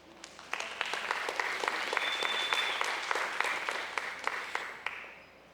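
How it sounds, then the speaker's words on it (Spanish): A church congregation bursts into applause during a Sunday sermon, a dense, steady roll of many hands clapping for about five seconds before it tapers off, with a few sharper claps standing out near the end. "Un aplauso para ellos."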